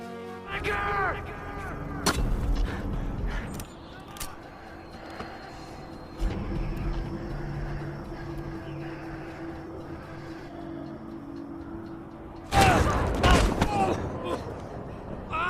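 Gunfire from an action film sounds as several sharp, loud bangs, with a dense burst near the end, set against rumbling background noise and a narrating voice.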